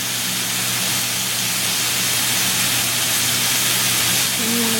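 A chuck roast sears in a hot pan with a steady, loud sizzle and hiss that runs unbroken throughout, while people talk faintly in the background.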